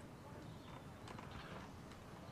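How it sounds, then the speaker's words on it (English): Horses gallop during a battle in Napoleon: Total War, a dense, continuous rumble of massed hooves with no clear individual beats, fairly quiet in the mix and without speech. "Horses from two directions."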